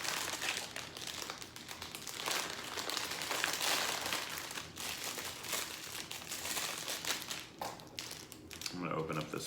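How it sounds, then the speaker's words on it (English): Plastic package of clear rubber craft bands being opened, with continuous close crinkling and crackling of the wrapper that grows louder in the middle and ends with a few sharper rustles. "I'm gonna open up this package here. These are just some clear rubber craft bands."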